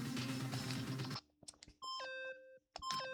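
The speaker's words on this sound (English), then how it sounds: "Stop that goddamn beeping and say something!" Beeping from the Danganronpa video game: after a loud burst of sound cuts off, a series of bright electronic beeps and tones chirps in short clusters with brief gaps of silence.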